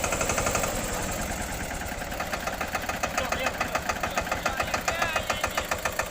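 A Steeltrac 15 hp tractor and a Massey 5118 18 hp tractor running in second gear during a gear speed test: loud, close diesel chugging with a rapid, regular knocking beat that grows more distinct as it continues.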